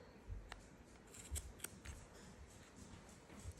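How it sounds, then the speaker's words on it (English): Sharp scissors snip through layers of yarn wound on a Clover pom-pom maker, giving several quiet, crisp cutting clicks at uneven intervals in an otherwise hushed room. "you basically take your scissors until you feel that bottom layer"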